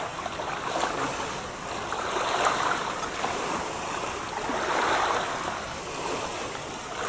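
Sea waves wash in at the seashore, a continuous broad rush that swells and eases in slow surges, with no talking.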